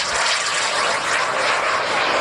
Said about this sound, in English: JetCat P160. SE, kerosene start with 36 pounds of thrust.